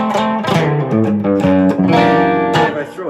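Guild electric guitar on its bridge humbucker through spring reverb, strummed loud chords with a bright, snappy attack and a short ringing reverb tail.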